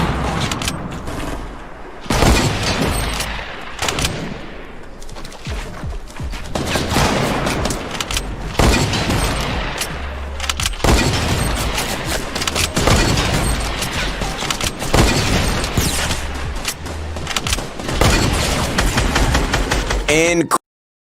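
Rapid gunfire from Fortnite's hunting rifle and other weapons crackles through a busy game mix, loud sharp reports bursting again and again with thumping booms beneath, voices chattering over the action throughout.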